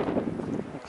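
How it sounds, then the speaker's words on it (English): Strong outdoor wind at pools in Arizona, a loud, continuous rumbling buffet against the microphone that lasts under a second with no other sound clear. "You probably won't be able to hear me because it's really windy."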